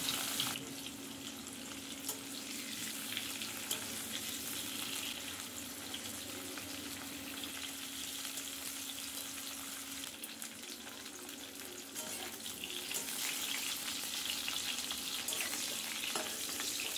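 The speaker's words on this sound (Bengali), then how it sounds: "ওই আলু ভাজা তেলে আমি আরও কিছুটা সরিষার তেল দিয়ে এঁচোড়গুলো অল্প অল্প দিয়ে লো ফ্লেমে খুব" Jackfruit pieces fry slowly in mustard oil over a low flame, giving a steady soft sizzle and crackle that runs on without a break, close and fairly quiet, with no talk over it.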